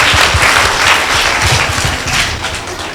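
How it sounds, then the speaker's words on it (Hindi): Hearty applause from an audience at a birthday celebration for the chairman of the Harijan Sevak Sangh, a dense, steady clapping that fills the room for the full three seconds with no talk over it. "जोरदार तालियों के साथ अभिनंदन करते हैं"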